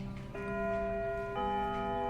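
A warning bell in the video game Lucid9 sounds two sustained, chime-like tones about a second apart, clear and steady, with each ring lingering into the next.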